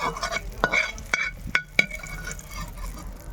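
Capsicum roasting in leftover oil in a kadai for a Punjabi paneer shimla mirch sabzi, a close, lively sizzle with a few sharp clinks of a spatula stirring against the pan.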